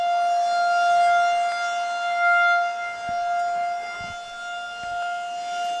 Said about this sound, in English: these sirens were going to go off as part of Weather Awareness Month